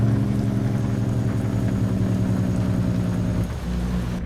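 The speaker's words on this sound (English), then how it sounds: "Let's use some engine brake quickly." A heavy truck with a straight-pipe exhaust mod in American Truck Simulator runs on its engine brake, a loud, steady rapid rumbling drone that drops in pitch near the end, with no talk over it.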